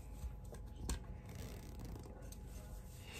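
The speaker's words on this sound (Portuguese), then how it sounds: "aqui, eu corto mais ou menos o tanto de zíper que eu preciso." Scissors snip through a length of zipper in a quiet sewing room, a few faint, close crisp cuts with soft rustling between them.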